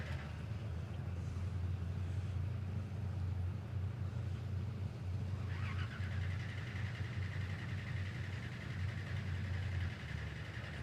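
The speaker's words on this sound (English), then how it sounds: "It's cranking, no problem. Doesn't sound like it wants to fire." A Ford Falcon drag car at a raceway cranks steadily for about ten seconds without catching, a low, even droning starter hum that never fires into a running engine, set against faint background activity.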